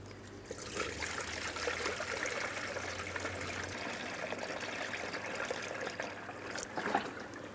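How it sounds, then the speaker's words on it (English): Ford Transit 250 coolant poured through a funnel into the reservoir, making a steady, soft trickling stream that runs for several seconds before a brief gurgle near the end, with no voices. "top it off with the manufacturer's specified coolant. I'm going to use a funnel so I don't spill"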